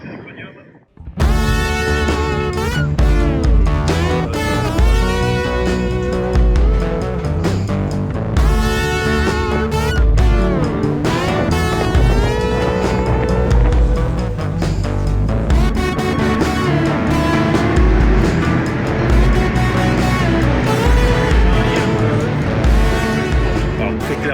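Loud, continuous engine roar of vintage racing cars on the Paul Ricard circuit, with revving and shifting pitches throughout, as cars pass close by with hardly a break in the noise.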